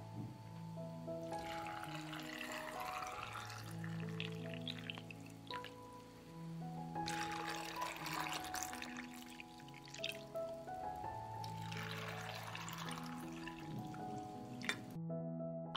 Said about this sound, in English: I pour cold water into the jars to cover the grapes.